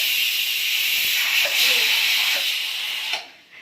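Steam hisses loudly and steadily from the whistles of two pressure cookers on a home kitchen stove, a dense close rushing jet that holds for a few seconds before dropping off sharply.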